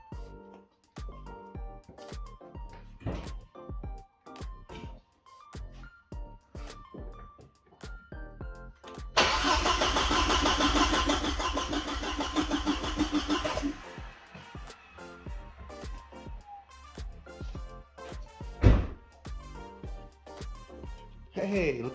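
A car engine cranks over during a compression test, a rhythmic starter churn running steadily for several seconds mid-clip, framed by someone talking before and after.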